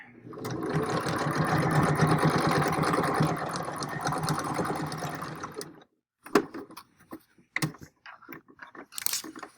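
Sewing machine stitching fabric in a steady, continuous whir for several seconds, then stopping, followed by a few short bursts of individual stitches.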